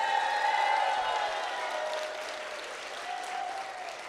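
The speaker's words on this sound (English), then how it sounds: "Another round of applause for Jeffrey Siebert." Applause from an audience at a live reveal event for the Tormenta Rampaging Run ride honors a guest, a broad wash of many people clapping that starts strong and gradually eases off while staying continuous.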